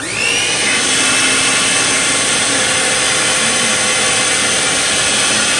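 An electric mixer whirs at high speed through strawberry preserve frosting, a loud, continuous motorized whine that starts abruptly and holds steady, with no voices.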